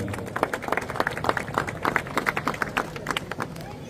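A crowd claps in scattered, lively bursts at a youth foundation launch event in Osmanabad Dharashiv, honouring gold-medal kho kho and national cricket players; the applause is close and continuous with some background chatter.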